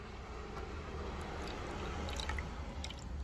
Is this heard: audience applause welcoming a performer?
no